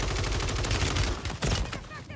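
Dense, rapid gunshots from a shooter video game crackle loudly and almost continuously for two seconds, close and overlapping.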